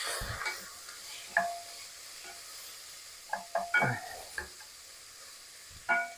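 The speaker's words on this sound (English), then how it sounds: "We're going to give this a nice stir." Peppers and onion sautéing in a pan are stirred with a utensil, giving a soft sizzle underneath a few sharp scrapes and clacks against the pan, close and quiet, with no talking.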